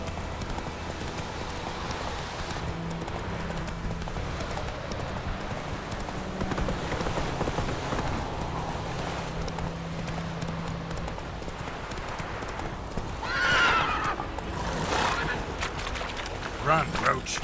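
Hoofbeats of the horse Roach galloping in The Witcher 3, a steady rhythmic clip-clop running under background game sound, with a brief whinny-like burst late on and a voice speaking over it.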